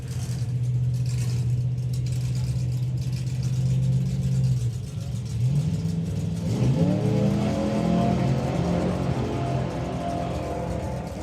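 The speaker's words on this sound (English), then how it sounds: "my goodness me, that engine note is absolutely, as Thomas said, resonating like mad up here." A nostalgia drag racing car's engine roars and revs at a drag strip event, a loud sustained rumble that dips, then climbs in pitch as it accelerates, heard from a nearby vantage point.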